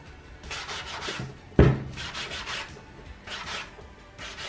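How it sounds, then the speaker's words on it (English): A Dollar Tree sanding block scuffs the rim of thrift-store furniture in repeated short back-and-forth rubbing strokes, close and clear, with one sharp knock partway through. "this is just a sanding block that I got from Dollar Tree."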